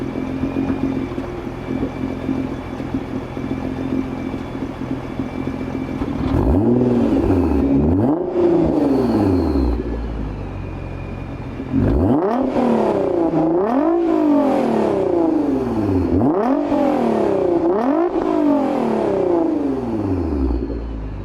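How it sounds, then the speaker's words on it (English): Nissan GT-R Nismo with full bolt-ons, revved in place: a steady idle for several seconds, then repeated sharp revs that climb and fall back in quick succession, loud and close with no voices. "I'll give you guys a couple of revs"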